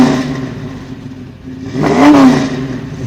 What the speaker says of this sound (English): revving the engine lets people know that it's definitely not stock